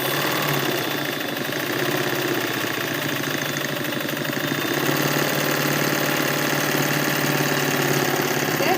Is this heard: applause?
no